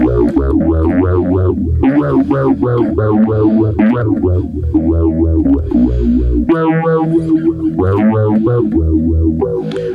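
A bass guitar played through a Zoom B1 Four multi-effects pedal with its distortion effect on, heavily fuzzed, loud and sustained over a series of notes and bent phrases, with no talking.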